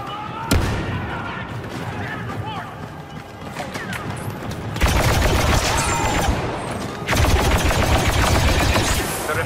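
Gunfire in the Star Wars Battlefront 2 video game, dense and continuous like a fusillade of blaster shots with loud bursts, mixed with game sounds and voices.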